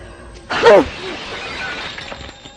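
Glass shatters in one loud, close burst during a Hindi-dubbed Hollywood action movie scene, followed by lingering ambience and a voice within the crash.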